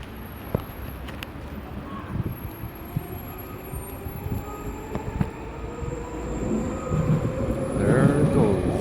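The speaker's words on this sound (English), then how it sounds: "Train." A train rolls past outdoors, a continuous rumble with rail clatter and thin high-pitched wheel squeal, growing louder toward the end.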